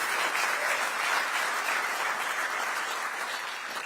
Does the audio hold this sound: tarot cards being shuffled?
no